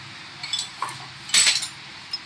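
Motorcycle clutch plates and pressure plates handled together, giving a few light metallic clinks and taps spread out, with one louder cluster of rattling contact in the middle, close and fairly quiet.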